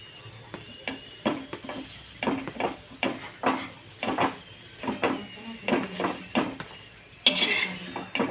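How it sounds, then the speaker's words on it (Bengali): A sugar-filled roti fries in a pan while a spatula presses and taps it in a steady rhythm, with a faint sizzle underneath and a brighter clatter near the end. "সময় নিয়ে ভাজতে হবে, কেন এই কিনারিগুলো হতে সময় লাগবে"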